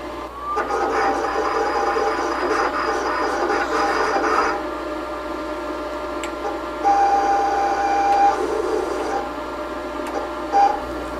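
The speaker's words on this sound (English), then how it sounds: "We're ready to start test cutting." A Roland GS-24 vinyl cutter performs a test cut, its motors whirring and buzzing steadily with shifting tones as the blade carriage moves, close and continuous, with a brief clack near the end.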